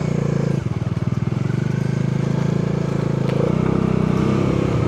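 A Bajaj Dominar 400 motorcycle engine runs nearby with a steady rumbling idle, briefly pulsing and shifting in tone before settling back to a constant drone.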